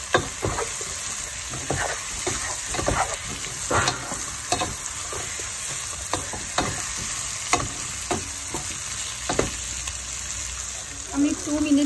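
Raw green banana pieces frying with mustard paste, onion, green chili, turmeric and salt in a pan: a continuous close sizzle under frequent scraping stir strokes, with a brief wetter burst near the end.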